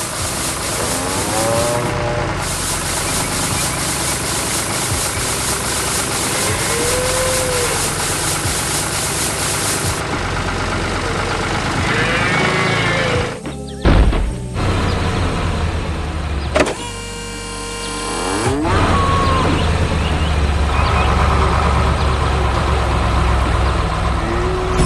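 A giant corn harvesting machine in a cartoon farm scene drones with a continuous engine hum and whirring mechanical sweeps that rise and cut out in places.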